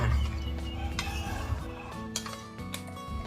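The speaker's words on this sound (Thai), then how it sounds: "คนส่วนผสมให้เข้ากันค่ะ" Pork for a Mongolian pork dish is stirred with seasoning and soup cube or pork stock in a bowl, giving soft scraping and faint clinks of utensil against dish, near and quiet.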